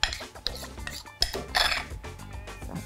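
Sauce transferred into a dish for roasted potatoes with garlic and cilantro, with close, light clinks of utensils against the dish and a few soft scraping knocks.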